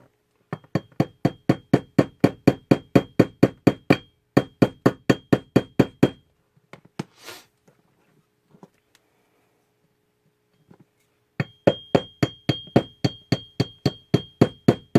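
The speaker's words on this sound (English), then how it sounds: "you're going to apply pressure once again while you're hammering the pin" A small pin is hammered into an SD9VE pistol trigger assembly during an Apex Tactical trigger and spring install: quick, regular metallic taps in two long bursts, a pause with faint handling, then another steady run of close taps.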